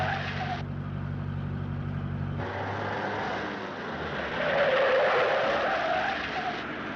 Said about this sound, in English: You handle your car quite well.